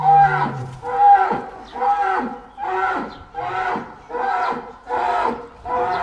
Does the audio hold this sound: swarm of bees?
no